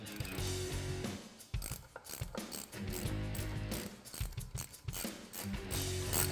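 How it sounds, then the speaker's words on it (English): A 3/8-inch ratchet with a 5/16 socket runs bolts into a 2011-2014 Mustang GT aluminum one-piece driveshaft. Rapid close clicking of the pawl repeats in steady bursts with brief pauses throughout. "I'm going to take my 5/16 on my 3/8 ratchet."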